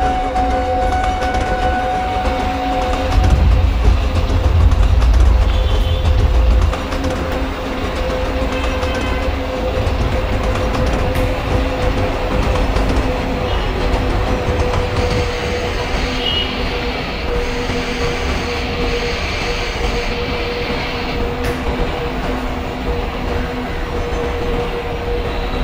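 A passenger train runs steadily in the MSTS simulator as the 51809 Kanpur–Tundla Fast Passenger, a continuous loud rolling rumble with rail clatter and a low engine drone throughout.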